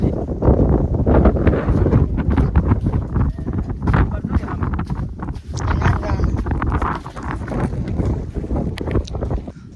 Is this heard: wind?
yes